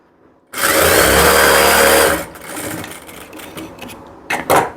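A sewing machine runs in one loud continuous burst of about a second and a half while it stitches blouse fabric. Quieter handling clicks and rustles follow.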